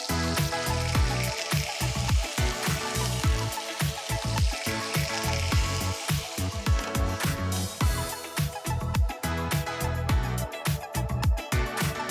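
Lamb meatballs fry in a hot pan with a dense, steady sizzle and crackle, punctuated by frequent sharp pops and spatters, close and loud throughout with no talking.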